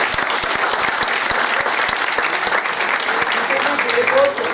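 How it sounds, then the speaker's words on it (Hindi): Audience at a distributor business workshop claps steadily throughout, a dense, loud wash of applause with a few sharper individual claps near the start. "बस जवाब दिया, ताली बजाइए।"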